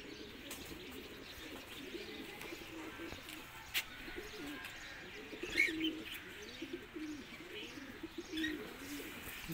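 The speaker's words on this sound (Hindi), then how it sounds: "ये जी किसी का रामपुरी कबूतर लग रहा है" A Rampuri pigeon coos repeatedly in soft, rolling low calls, fairly faint against quiet outdoor background, with a few light chirps from other birds.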